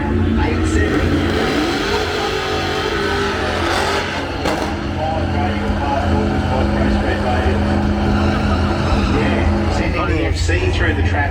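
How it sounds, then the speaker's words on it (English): Engine roar of an FC Holden street car at a drag strip, struggling to get a burnout going, loud and steady throughout with crowd and commentary voices mixed underneath. "FC through the traps into the struggling to get a burnout going. FC street car."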